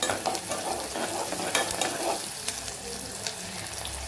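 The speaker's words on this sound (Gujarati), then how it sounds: "સરસ એવી ડુંગળીને આપણે સાતળી લેવાની છે, લાઇટ પિંક કલર થાય ત્યાં સુધી" Onions sauté in a pan for vaghareli khichdi, a soft close sizzle broken by repeated stirring clicks and scrapes of a spoon against the pan.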